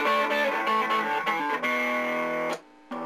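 An electric guitar played through a Crowther Hot Cake overdrive pedal paired with an 808 overdrive, with sustained, moderately distorted chords and picked notes that ring out, briefly drop away, then return.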